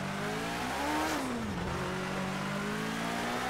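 A race car engine in a racing video game roars steadily with rising and falling pitch, climbing then dropping around mid-clip as it shifts, loud and continuous with no voices over it.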